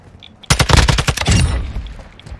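Burst of rapid automatic gunfire in a first-person video game cave escape, loud and dense, a tight string of shots lasting about a second before fading into echoing tail.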